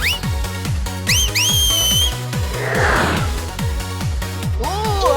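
A whistle blows in a cartoon underwater hair-styling scene with mermaid characters, its rising tone sitting over a steady bouncy music beat alongside other short cartoon effects.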